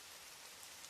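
Steady drizzle falls over a parking lot, a faint, even hiss of fine raindrops with no distinct patter, continuous and distant-sounding throughout.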